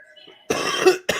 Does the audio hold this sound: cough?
yes